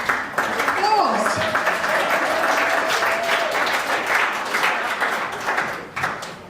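Audience clapping for a councillor introduced at a farewell event for a charity chief executive, a steady, full round of applause lasting several seconds, with faint voices and a tonal sound mixed in near the start.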